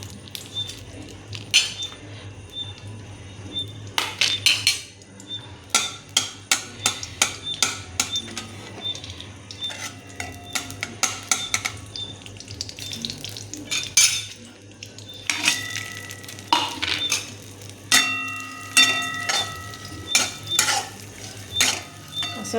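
Almonds and dry dates roasting in ghee in a hot kadhai, stirred with a metal spoon that clinks and scrapes repeatedly against the pan over a faint sizzle, close and fairly loud.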